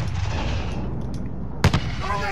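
Gunfire in the Call of Duty Modern Warfare video game: a short, sharp burst of shots cracks out over a constant rumble of battlefield ambience, with faint voices in the background.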